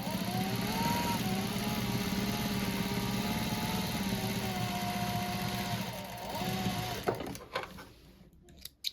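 A sewing machine runs steadily as it stitches the side panel of a rolltop rucksack, a close continuous mechanical whir for about seven seconds before stopping with a few clunks and handling knocks.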